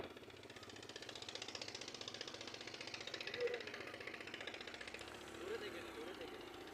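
A motorbike engine runs steadily while riding across sandy riverbank char land in Bangladesh, a continuous close rattling drone with a couple of brief louder bursts, and voices faintly present underneath.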